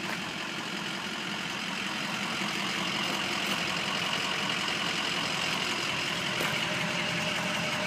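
A 2004 Ford F250 diesel 4x4 pickup with a 6-inch lift idles steadily nearby, a continuous broadband engine rumble and hum with no speech over it.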